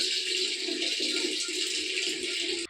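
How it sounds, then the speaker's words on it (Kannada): Water gushes steadily from a tap fed by a wood-fired stove water heater, a loud, close, even hiss of flowing water that runs unbroken and then stops abruptly at the end. "ನೋಡಿ ಈ ರೀತಿ ನೀರು ಬರುತ್ತೆ"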